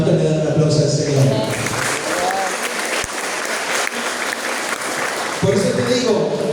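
A church congregation breaks into sustained applause in praise, dense clapping holding steady for several seconds, loud and close, with a voice speaking over it at the start and end.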